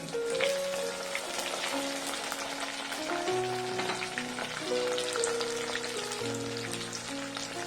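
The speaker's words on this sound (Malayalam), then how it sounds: "ഇഞ്ചിയും വെളുത്തുള്ളിയും ഇവിടെ മൂത്തിട്ടുണ്ട് എന്നിട്ട് നമുക്ക് പത്ത് പച്ചമുളകും കൂടെ ചീറിട്ടു" Ginger, garlic and green chillies frying in rice bran oil for a bilimbi pickle, a steady crackling sizzle with soft spatters running throughout, while a person talks over it.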